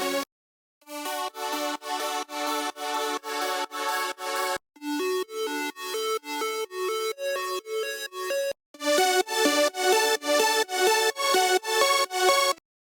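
Synth lead sounds for a trap production in FL Studio play one at a time, each a quick rhythmic run of bright plucked notes, with short gaps between the sounds.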